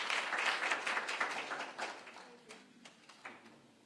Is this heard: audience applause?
yes